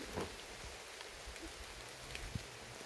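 Faint rain falls in the mountains, a soft steady hiss with a few scattered drops standing out, distant and quiet with no talking.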